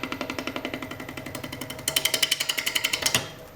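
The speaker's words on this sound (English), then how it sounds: "turn the handle a little bit until my bowl gouge cuts." A bowl gouge rough-turning green wood for a salad bowl on a lathe, giving a rapid, regular rhythmic chatter of close, loud repeated cuts that grow brighter and harsher toward the end before easing off.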